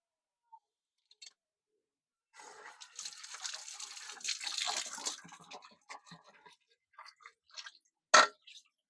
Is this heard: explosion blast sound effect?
no